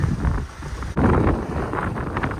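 Strong wind at sea gusting and roaring across the microphone, with a rushing, buffeting texture and no voices.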